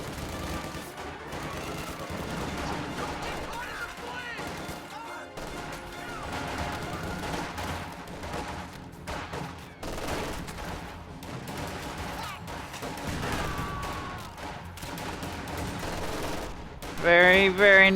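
MG42 machine gun fire in a real-time strategy video game battle, heard as dense, ongoing bursts of gunfire mixed with explosions and other battle noise, with a commentator talking over it.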